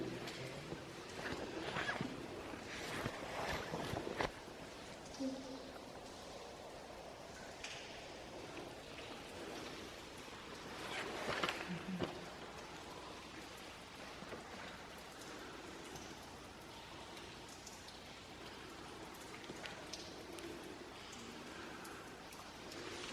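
Water inside Cathedral Caverns cave gives a faint, steady wash like light rain or dripping, with a few slightly louder splashy bursts in a quiet, echoing space.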